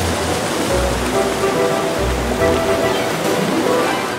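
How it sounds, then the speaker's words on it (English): Small torrent at the source of a river in the Trenta Valley, Julian Alps, rushing out of a cave and over boulders, a steady, loud, close roar of water with deep low thumps. "a tiny torrent of water rushes out of a cave like a waterfall across outlying boulders"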